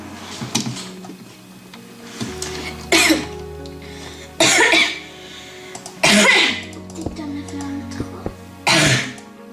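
A person coughs in several sharp bursts spaced a second or two apart, close up, with quiet background hum and small clicks between them.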